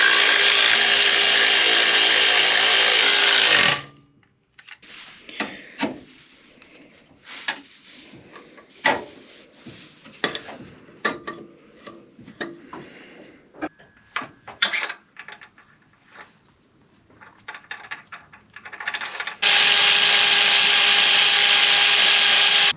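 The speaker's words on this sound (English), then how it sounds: "I'm going to start chucking the power steering pump onto the motor" A power steering pump bracket is bolted onto the engine of a Nissan Cefiro, with scattered close metallic clinks, ratchet clicks and tool knocks between loud bursts of music at the start and end.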